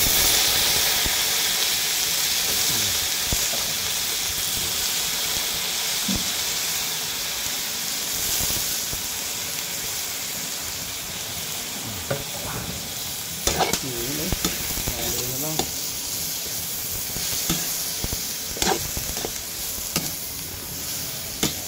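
String beans (sitaw) hitting a hot pan with pork adobo, a loud continuous frying sizzle and hiss with stirring scrapes and clinks of a utensil growing more frequent in the second half, no talking.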